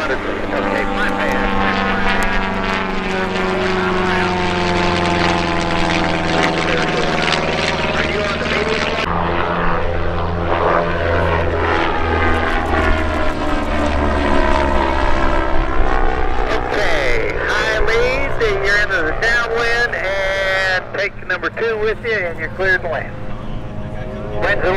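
A propeller aircraft runs through its landing at EAA AirVenture Oshkosh, its engine drone loud and close with shifting pitch, while radio-style voices talk over it almost the whole time.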